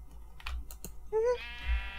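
Sheep bleating in the Minecraft video game, a wavering, nasal cry with stacked harmonics that rises around the middle of the clip and trails off, preceded by a few soft clicks like keyboard taps.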